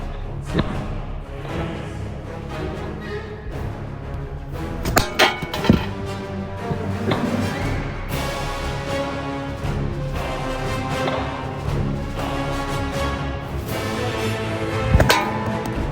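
Sling projectiles strike an ancient armor helmet in a handful of sharp, separate impacts spaced several seconds apart, each a quick thud or clank over a low background hiss, with no talking.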